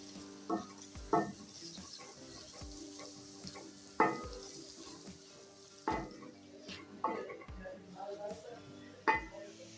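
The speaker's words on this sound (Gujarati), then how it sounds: "ખાલી આપણે ડુંગળીને શેકવાની છે" Onions roasting in a pan for a Kathiyawadi Gujarati onion shaak, with steady sizzling broken by regular spoon-stirring scrapes and clinks, close and fairly loud, and no talking.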